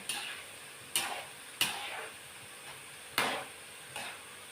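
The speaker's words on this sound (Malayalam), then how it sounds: "എണ്ണക്കകത്തിട്ട് കഴിയുമ്പോൾ ഇതൊന്ന് ചട്ടുക കൊണ്ട് പെട്ടെന്ന് ഇളക്കി കൊടുക്കും" A homemade snack fries in hot oil in a pan with a steady hiss, broken by about five sharp spatula scrapes and stirs at uneven intervals; no one speaks.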